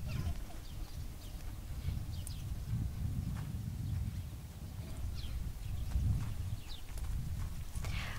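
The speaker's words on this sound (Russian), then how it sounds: "В начале занятия Гриша, как всегда, решил похвастаться своей знаменитой походкой заднеприводной лошади." A horse walking on a training course, its hooves thudding softly in a steady, uneven rhythm throughout, fairly close, with faint ambient noise and occasional light clicks.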